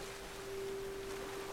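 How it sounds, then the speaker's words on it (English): In Tomb Raider (2013), water rushes over a waterfall, a steady broadband roar with a faint tonal hum beneath, soft and distant and heard alone. "Going down the waterfall."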